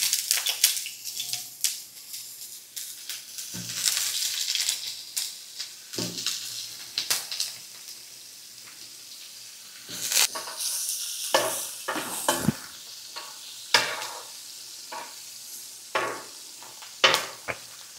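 Sausages cooking in a Mccarron MCC-P402 multi-function electric pot with a glass lid, giving soft sizzling and frying crackle with intermittent stirring scrapes and light clinks of utensils against the pot, close and moderately loud, no talking.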